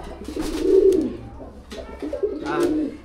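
Local pigeons kept as a pair in a cage give two low, throaty coos close by, each a rolling burst separated by a short pause.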